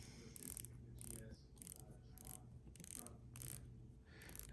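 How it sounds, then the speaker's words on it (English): Rotating bezel on a Seiko 5 automatic day-date dive watch being turned, giving a run of crisp, close ratcheting clicks in quick bursts at a fairly regular rhythm, quiet and alone. "It's got a nice rotating bezel."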